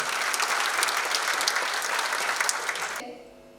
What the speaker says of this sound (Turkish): Kendisini alkışlarınızla sahneye alıyoruz